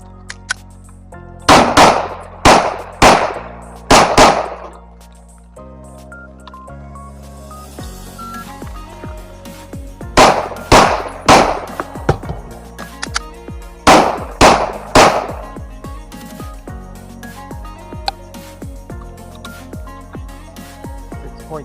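A Springfield Echelon pistol fitted with a Patriot CNC compensator fires outdoors in three quick strings of sharp, loud shots, each string followed by a trailing echo, with quiet gaps between them.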